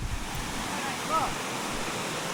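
A fierce, fast-flowing river roars in a steady, close, broadband rush that sounds almost like wind, continuous and unbroken for the whole moment.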